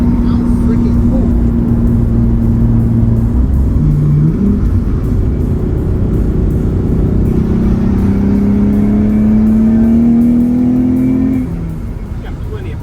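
A long-abandoned Nissan 300ZX on its first drive drones steadily and loud, its engine note climbing and settling through gear changes under a voice talking over it.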